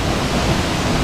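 Steady, dense roar of Cachoeira do Y, a waterfall in Lima Duarte, Minas Gerais, where two falls join in a Y shape, loud and unbroken, heard up close with no voices.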